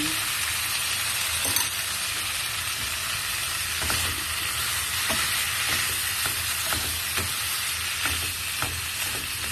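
Vegetables stir-fried with string beans and corn sizzle steadily in a pan, broken by repeated scraping stirs at a loose rhythm, close and continuous with no talk.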